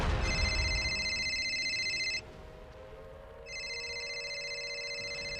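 A telephone rings in an office during a staged military drama, with a steady electronic trill in two long bursts separated by a short pause and a low hum underneath.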